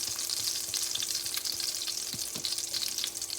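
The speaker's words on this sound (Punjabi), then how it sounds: "ਜੀਰੇ ਨੂੰ ਆਪਾਂ ਚੰਗੀ ਤਰ੍ਹਾਂ ਭੁੰਨ ਲੈਣਾ ਹੈਗਾ ਆ" Cumin seeds roast in hot ghee for a dal tadka, giving a dense, steady sizzle with a bright crackle throughout. A couple of soft knocks sound near the end, close to the pan, and no one speaks.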